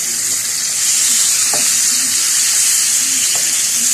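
Fish frying in oil in a pan at home, giving a steady close hiss of sizzling with a few soft spatters and pops, no voices.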